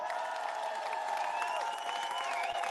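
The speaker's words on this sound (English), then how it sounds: "And now just give one huge round of applause for all of the speakers that you've seen on this stage." A large outdoor crowd at a London protest against Trump's visit applauds and cheers the speakers, a continuous wash of clapping and voices heard from a distance, fairly faint.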